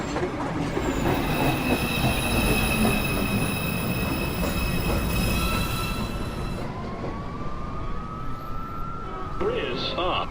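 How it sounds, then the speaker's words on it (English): A New York City subway 2 express train rolls into the station, wheels squealing and screeching loudly against the rails, with a steady rumble throughout and sharp high squeals easing off near the end. "Uptown Express 2 train. Approaching the station"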